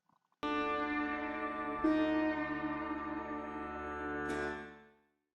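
A sitar sounds three plucked notes, each ringing out with a rich, buzzing drone that sustains and slowly fades, with no voices.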